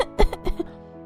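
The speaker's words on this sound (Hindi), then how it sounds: "देख कितनी खांसी हो रखी है इसको" A child coughs several times in quick, harsh bursts, close and fairly loud, followed by a short quiet tail, in a cold-weather home setting.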